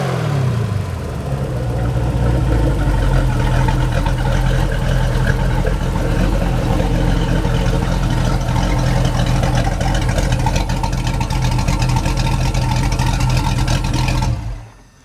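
A Mercruiser 383 Magnum Stroker marine engine runs wide open on test, giving a loud, steady, unbroken roar for about fourteen seconds before cutting off abruptly.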